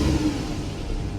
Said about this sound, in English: let me just briefly rev it without the switchable exhaust.